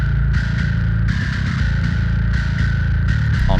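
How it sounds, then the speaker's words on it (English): Behemoth Bass virtual bass instrument plays a heavy low note with a sub sine wave filling the low end, a loud sustained buzzy tone with short rhythmic bursts of brighter attack on top. "the sub sine wave pushes up this entire low end"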